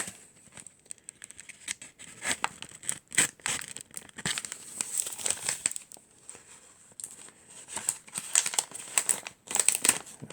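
Christmas gift wrapping paper is cut open up close. Dense crinkling, rustling and tearing come in uneven bursts, with short quiet gaps between them and no talking.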